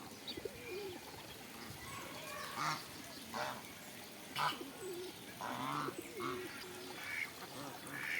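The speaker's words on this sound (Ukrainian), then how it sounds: "Тут теж от качки відпочивають." Ducks quack in short bursts among other bird calls and cooing, at moderate distance over a steady outdoor background, with a hen and chicks nearby.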